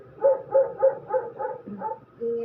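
A pet dog barks at a passer-by in a yard, as banana-leaf-wrapped milkfish grills nearby: about seven sharp, evenly spaced barks close by, ending in a lower, drawn-out woof.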